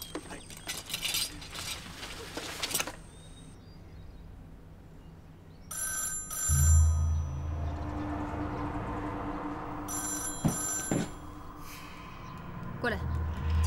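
Telephone ringing in a dramatic scene, bursts of ringing at the start and again midway, with voices and background noise around it.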